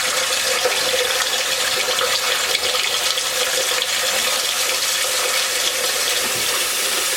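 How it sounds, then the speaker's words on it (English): Water gushing steadily from the drain of a hot water heater being flushed to clear trapped air, a constant loud broadband rush that holds level without a break from start to finish. "As you can see, the water started to flow."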